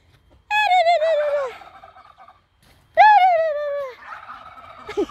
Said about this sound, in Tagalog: Ayan ang ating mga manok at bibe.